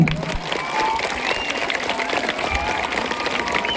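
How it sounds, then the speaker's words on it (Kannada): A crowd of children watching a street play about preventing child abuse claps together in a brief, lively burst of dense, steady applause. "ಒಂದು ಚಪ್ಪಾಳೆ ಕೊಡ್ತೀರಾ?"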